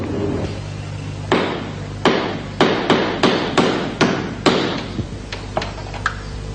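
A hammer strikes repeatedly and loudly, about a dozen sharp bangs in an uneven rhythm, the later blows lighter and quicker, over a steady low background hum.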